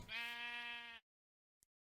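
A sheep in the Minecraft FTB Unstable 1.9 modpack gives one clear, wavering bleat lasting about a second, followed by silence and a tiny click.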